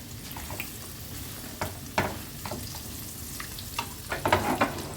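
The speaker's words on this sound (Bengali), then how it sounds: "তো এইভাবে ভেজে নিতে হবে পনিরগুলোকে।" Paneer fries in hot oil with a steady sizzle, broken by sharp pops and brief scrapes of stirring, close and moderately loud.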